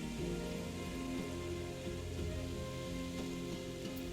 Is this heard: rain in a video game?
yes